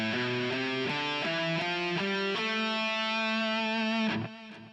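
Electric guitar playing an A natural minor scale as a descending run of single notes at a steady pace, each note clear and sustained, closing on a held note that fades.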